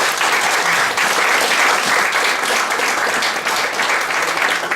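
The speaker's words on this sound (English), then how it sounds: "If you could give them all a good round of applause." A conference audience applauds panel speakers at a women in media event, dense and loud clapping sustained without pause from start to finish.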